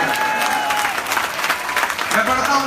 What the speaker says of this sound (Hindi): ताली वाली बजाइए थोड़ा सा